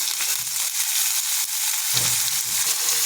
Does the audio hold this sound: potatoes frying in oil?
yes